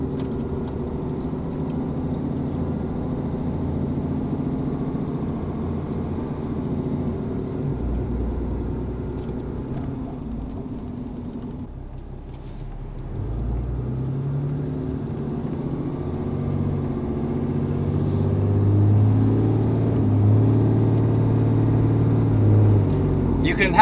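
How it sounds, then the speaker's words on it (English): RAM 2500 pickup with a 6.7 Cummins diesel, deleted 5-inch straight-pipe turbo-back exhaust into a KARNAGE muffler, driving: a low, smooth diesel rumble from inside the cab that dips briefly mid-clip and then builds louder, with a voice speaking over it. "this truck is completely deleted 5-inch straight pipe turbo back into the new KARNAGE muffler."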